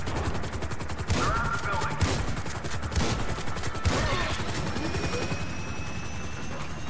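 A helicopter in the Grand Theft Auto 5 video game makes a constant loud rotor thump and engine roar, mixed with bursts of gunfire and other game action, while voices speak over it.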